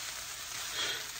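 Chicken and vegetables stir-frying in a pan for Indonesian fried noodles, a dense, steady hiss of sizzling oil with a slight swell partway through, close and continuous.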